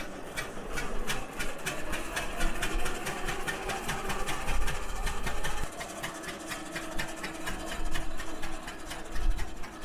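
A small tractor engine runs steadily at idle, a rapid mechanical ticking and rattle repeating without a break, close and fairly loud.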